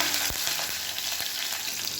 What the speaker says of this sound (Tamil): இப்போ இது நல்லா பொரிய ஆரம்பிக்குது.